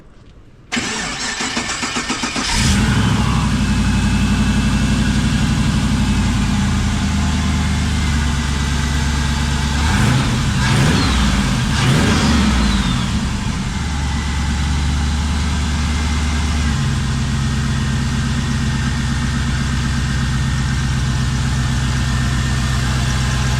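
A fiberglass Subaru-bodied custom car cranks briefly and fires up loudly nearby, then settles into a steady, rumbling idle with a couple of mid-clip revs before calming.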